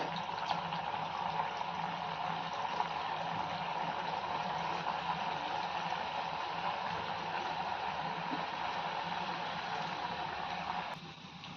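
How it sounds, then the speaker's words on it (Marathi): Sweet potato gulab jamun fry in oil over a medium-low flame, giving a faint, steady, continuous bubbling sizzle that fades slightly at the end, with no voices. "एक एक करून आपण सगळे गुलाबजाम तळून घेऊयात"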